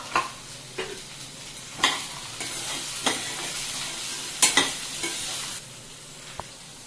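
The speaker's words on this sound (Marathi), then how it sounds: "आता हे मटार टाकून ते पण तेलावर छान आपण परतून घेऊया।" Green peas stir-fried in hot oil, a continuous sizzle broken by repeated scraping strokes of a spatula against the pan, close and moderately loud, no voices.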